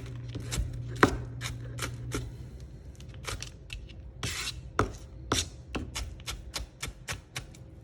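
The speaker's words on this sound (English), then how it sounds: "I'm just kind of rocking my knife back and forth and gathering it all together until I get this nice and finely minced." Knife chopping and mincing onion on a cutting board, a steady run of sharp, close taps with some rocking scrapes between them, crisp and clear with no talking.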